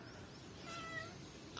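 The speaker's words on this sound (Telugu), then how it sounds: "మా పిల్లిగాడు చూపిస్తున్నా మీకు" A pet cat with a lame leg meows softly once, a faint drawn-out call against quiet background hiss, as it comes looking for birds.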